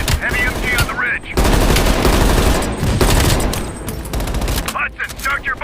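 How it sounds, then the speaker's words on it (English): Heavy machine gun fire roars from a ridge in the Call of Duty: Cold War campaign finale, loud sustained bursts with brief gaps and battle noise around them. "Hudson, heavy MG on the ridge."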